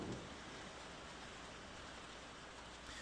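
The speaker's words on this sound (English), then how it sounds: "Oh, it is still raining, in fact." Steady rain from the video game Warrior of Ras III, The Wylde, a dense even hiss of falling rain that holds at a constant level throughout, with no voices.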